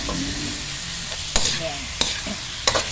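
Pancit canton stirred and fried in a pan, a steady close sizzle under intermittent scrapes and knocks of the utensil against the pan, with no talking.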